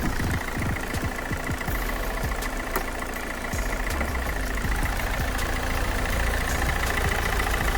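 A 2009 Opel Zafira B with a 1.7 CDTI diesel engine idles with the bonnet open, giving a steady, even, close diesel clatter with a low rumble throughout and no talk.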